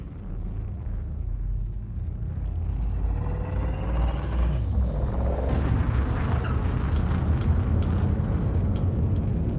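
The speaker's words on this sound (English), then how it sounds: "Frame shift drive." A frame shift drive in the space game Elite Dangerous spools up into a jump, a steady loud rumbling roar that swells and thickens with a rising whoosh midway, continuing dense and alone to the end.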